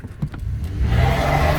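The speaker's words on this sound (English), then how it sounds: "Whoa, peeling out." A 2004 Dodge Dakota quad cab pickup with a 3.7 Magnum engine peels out, a few light clunks then the engine surges into a loud, sustained rising roar up close.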